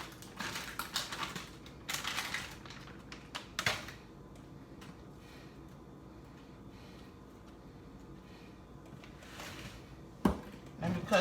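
Broccoli being cut with a knife while preparing a TikTok recipe, giving a run of quick chopping taps early on and a few sharper cuts near the end, with background noise in between.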